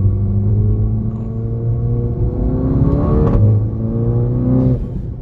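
Audi TT 2.0 four-cylinder turbo with stage 2 tuning, 300 hp, 2018, accelerating from inside the cabin: a loud droning engine note climbs through revs, dips at gear changes and climbs again.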